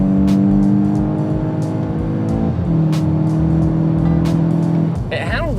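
A VW Golf MK8 GTI with a DSG gearbox and catback exhaust pulls hard under full throttle, its engine droning loudly from inside the cabin. A quick gearshift interrupts the climb partway through, and voices speak over the engine.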